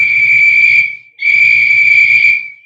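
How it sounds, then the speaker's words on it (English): Two long steady whistle blasts signal a dynamiting crew blasting through a mountain in an old-time radio suspense drama, each tone sustained with a brief gap between, loud and near over a low rumbling bed. "hear the whistles, Delaney?"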